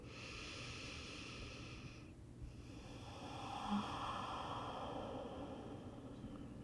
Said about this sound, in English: Couple more rounds of breath here.